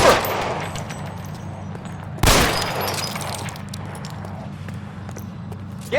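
Machine gun fire in the video game L.A. Noire: a dense, rattling burst of rapid shots with a sharp loud crack partway through, steady gunfire continuing under the scene.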